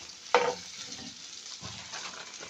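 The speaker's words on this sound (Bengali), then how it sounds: "একটু আমার বোন নাড়া শুরু করছে। এটা শুকনা ঝালের গুঁড়ো, এটা জিরে," A sister stirs dried chilli powder and cumin frying in a pan, giving one sharp scrape followed by soft, continuous sizzling and light stirring noises.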